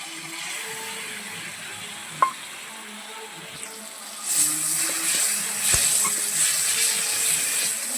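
Ground spice paste hits hot oil in a pan for a Bengali koi fish dish, a steady hiss that swells louder midway, with a few brief clinks from a utensil and no one speaking.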